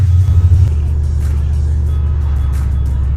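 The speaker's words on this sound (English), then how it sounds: "So I'm going to let this car warm up." A turbocharged SN95 Ford Mustang sits warming up, its engine holding a steady, deep, loud rumble close by. No one speaks over it.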